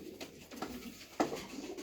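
Pigeon cooing in a loft, a racing pigeon ready for auction with half-grown wing feathers; soft low coos repeat through the moment, with one brighter louder call near the middle over a close indoor background.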